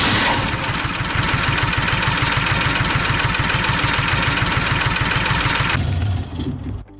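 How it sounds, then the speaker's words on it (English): A John Deere 6x4 utility vehicle in Farming Simulator cranks and starts, then settles into a loud, steady idle with a rapid regular engine pulse before shutting off near the end; no talking. "Okay, let's turn the engine on. Ooh, nice sounds."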